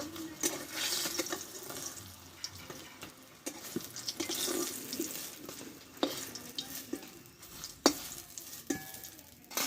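Eggplant pieces fry in hot oil in a Bengali kitchen, a moderate, continuous sizzle near the mic punctuated by irregular clinks and scrapes of a utensil, with no one speaking.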